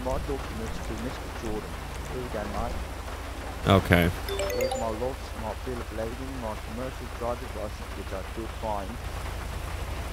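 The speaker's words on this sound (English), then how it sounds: "I don't want to have to deal with the rain right now because we're outside." Steady rain falls outdoors in a police video game, with a loud crack of thunder midway, while someone talks over it.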